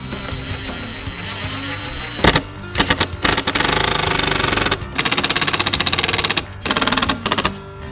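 Screws being driven through plywood onto bolts with a power driver, loud rapid ratcheting bursts with short pauses between, close and alone.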